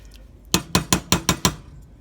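Six evenly spaced metallic clinks of a spoon striking a pot while stirring pot roast ingredients, sharp and close, with quiet pauses between hits and no talking.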